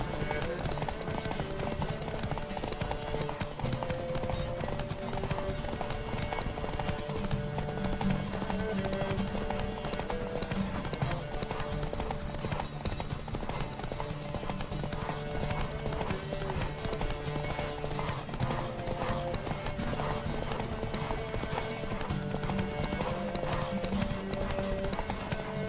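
A horse galloping during a horse race in the Witcher 3 video game, with fast continuous hoofbeats at a steady driving rhythm over loud background game music.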